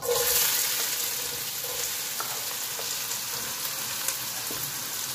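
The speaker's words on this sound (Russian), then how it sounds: "И здесь будем сначала жарить лук." Chopped onion sizzles and fries in a mix of melted butter and olive oil in a pan, a steady loud hiss with small crackles throughout, no talking.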